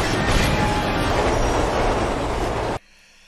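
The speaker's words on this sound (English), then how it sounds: "There's a train coming." A train approaches in a tense movie scene, its loud, dense rumble and rail noise filling the clip steadily before cutting off abruptly near the end.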